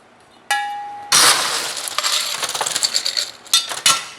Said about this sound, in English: fill that up with ice, just like so